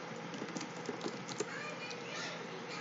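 Typing on a computer keyboard, a steady run of light, fast clicks at close range under a low background hum, with faint speech mixed in.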